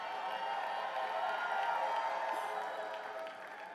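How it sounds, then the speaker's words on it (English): A rally crowd in Atlanta, Georgia gives a steady roar of mixed clapping and cheering that holds at even strength and then eases slightly toward the end. "y'all can clap for that."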